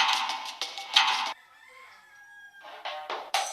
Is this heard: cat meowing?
no